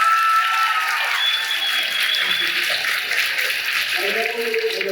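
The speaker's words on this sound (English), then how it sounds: "Give them a round of applause." Continuous crowd applause at the Windblume Festival 2024 VO Rodeo, a broad steady roar of clapping, with high whistles and tonal sounds threaded through it.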